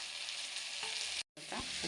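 Brinjal sautéing in a pan for sambar gives a steady close sizzle and crackle of frying, with a brief stir and a short gap, and no talk.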